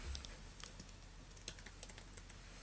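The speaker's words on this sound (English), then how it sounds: "I type in post and save." Light, quick keystrokes tap on a computer keyboard in a short burst of typing, close but quiet, with no voices.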